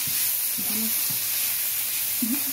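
Green chilies tossed into bitter gourd frying in a pan, giving a steady, even sizzle throughout, with a few faint low tones and brief murmurs beneath it.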